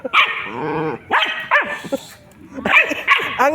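A dog gives repeated close, sharp barks and yips in short bursts with brief pauses between them, loud and near.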